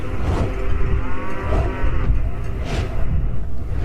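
A cartoon water buffalo gives three long, low moos in a row, each a deep bellow that swells and fades, close and loud with nothing else heard.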